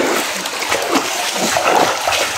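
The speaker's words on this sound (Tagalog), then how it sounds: "Tumutulo." Water splashes and drips steadily inside a forest cave, a close, continuous wet spattering with no voices.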